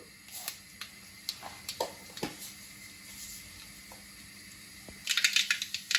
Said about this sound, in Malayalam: കടുക് പൊട്ടിക്കഴിയുമ്പോൾ